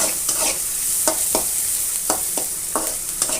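Onions and chillies frying in a pan, with a steady bright sizzle under repeated spatula scrapes and stirs at an irregular rhythm, close and fairly loud, with no one speaking.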